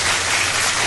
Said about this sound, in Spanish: aplauso para Mr. President